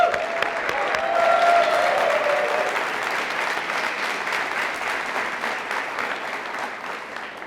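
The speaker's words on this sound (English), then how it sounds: "by the round of applause these guys got from their students" Students at a fire academy graduation give a round of applause, a dense, loud burst of clapping that swells early, then slowly tapers off, briefly joined by a faint whistle-like tone.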